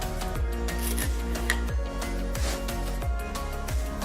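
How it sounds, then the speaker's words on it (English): Sandpaper rubs back and forth on a small gift card coin launcher piece in a steady, rhythmic rasping, each stroke close and distinct, repeating at an even pace. "Let's also hit that with a little bit of sandpaper to take on inside."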